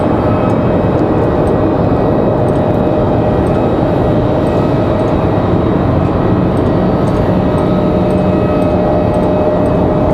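An Embraer E175LR jet lands, a steady loud roar of engine and rushing air holding evenly close by, with no talk.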